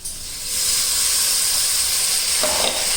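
A paste of tomato, ginger, garlic and cashew hits a pan of lightly fried onions and sizzles steadily with a loud, close, bright hiss, then a short stir or scrape near the end.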